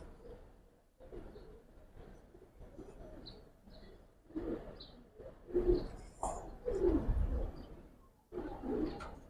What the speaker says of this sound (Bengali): কবুতর মাশাআল্লাহ অনেক সুন্দর কবুতর